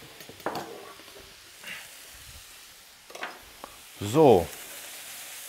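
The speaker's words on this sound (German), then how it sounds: "während das Fleisch und das Gemüse jetzt ein bisschen brutzelt" Chicken and vegetables for a chicken curry sizzle in a frying pan, a soft steady hiss under scattered kitchen clatter and brief talk, ending in a louder scraping stir of the pan.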